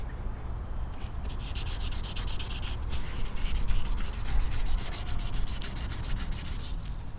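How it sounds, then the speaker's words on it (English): Steady hand sanding, a continuous rough rubbing of 400-grit sandpaper over a car body, with faint rhythmic strokes, close and even throughout. "just got a piece of sandpaper with my hand, just going around the contour of it"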